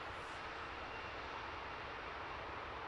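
A departing airplane at London Luton Airport roars steadily in the distance as it climbs and banks left, a constant broadband engine drone with no pauses.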